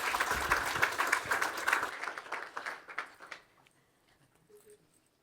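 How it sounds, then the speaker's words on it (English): Audience applause in a conference hall at a security and privacy symposium paper session, a dense steady clapping that fades out over a few seconds into quiet. "again, round of applause."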